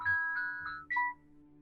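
A short magical chime for a magic berry plays alone: a few bright ascending ding tones and a final sparkling ping, clear and close, lasting under two seconds.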